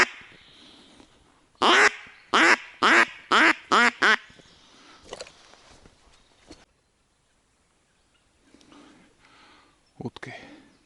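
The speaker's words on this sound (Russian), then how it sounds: "Нормальный манок." A duck call decoy quacks in a quick run of six loud, evenly spaced blasts, followed by a few softer scattered quacks and then near silence, during a duck hunt in a forest near the Lymva river.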